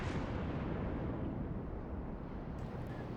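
Naval gunfire in World of Warships from the Tirpitz battleship, a dense, roaring barrage of heavy booms blending into one sustained rumble before easing slightly near the end.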